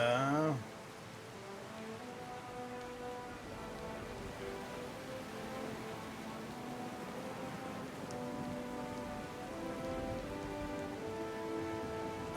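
Rainstorm at sea in the video game Pillars of Eternity II: a steady hiss of rain pattering on surfaces runs throughout over sustained, tonal musical notes, with no voices.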